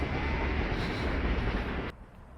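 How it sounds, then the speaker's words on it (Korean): Steady rumble of a passenger train riding through Thailand toward Bangkok in cool weather, a loud continuous rolling roar close by that drops away sharply near the end. "우리 우주가 좋아하는 기차."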